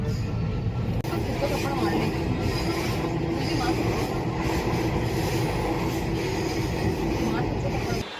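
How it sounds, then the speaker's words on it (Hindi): A metro train runs at Laxmi Nagar metro station with a loud, steady rumble and a faint squeal of wheels that continues for several seconds and then drops off at the end. "तो गाइस फिलहाल पहुँच चुके लक्ष्मी नगर मेट्रो स्टेशन"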